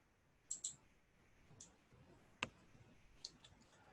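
A computer mouse clicks a handful of times, with sharp, quiet, isolated clicks spaced irregularly over a near-silent background.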